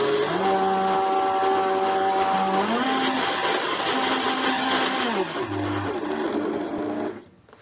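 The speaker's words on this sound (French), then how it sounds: "Encore un petit coup de blender et on aura notre parmesan qu'on pourra conserver." A blender grinding parmesan runs loud and steady, its motor whine shifting pitch as the cheese breaks down, then cutting off near the end.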